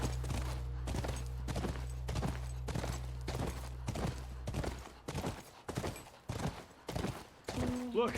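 Regular thudding horse hoofbeats from the video game The Last of Us clip-clop at a steady rhythm, loud and close, over a low hum that drops away halfway through.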